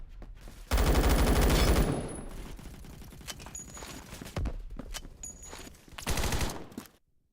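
Rapid automatic gunfire in the Phantom Forces video game, a loud dense burst at first, then scattered shots and a second strong burst before fading out.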